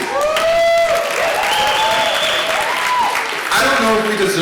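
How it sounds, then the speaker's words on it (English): Audience at a celebration and reunion event applauding as the evening opens, clapping mixed with cheering and loud voices and whoops that rise and fall throughout. "I don't know if we deserve an applause yet"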